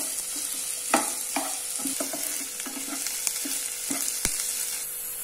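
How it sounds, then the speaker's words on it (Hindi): Finely chopped onions fry in a pan toward golden brown, giving a gentle steady sizzle broken by occasional spoon taps and stirring scrapes, close and fairly quiet with no voices. "प्याज को हमें हल्का सा ब्राउन होने तक फ्राई कर लेंगे"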